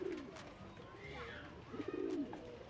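Domestic pigeons kept on a rooftop give soft, low cooing calls near the start and again toward the end, over a steady outdoor background with faint bird chirps.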